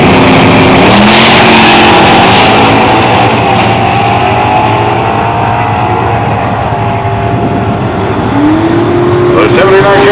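Drag racing cars, a 1979 Chevy Malibu and a 1988 Mustang, roar at a drag strip in Ontario with loud, sustained engine wails that rise in pitch as they accelerate and shift, while an announcer talks over the noise.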